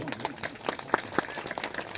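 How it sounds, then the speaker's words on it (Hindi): An audience at a Har Har Mahadev devotional gathering claps to welcome a devotee, a loose patter of separate claps at moderate volume with a voice speaking over them. "आइए इनका भी एक बार जोरदार तालियों से स्वागत"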